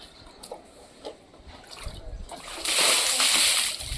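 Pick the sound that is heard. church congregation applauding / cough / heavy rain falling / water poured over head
water poured over head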